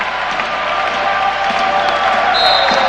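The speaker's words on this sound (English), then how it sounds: "The crowd's excited." A men's college volleyball crowd cheers and claps steadily in a gym before match point, forming a loud, continuous wash of noise with a few squeaks and thuds and a brief high whistle-like tone near the end.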